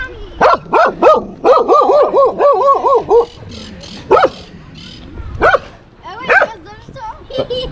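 Several dogs in rural Morteros, Argentina bark and yip repeatedly nearby, a run of rapid barks then scattered single barks and whines, with people talking in between.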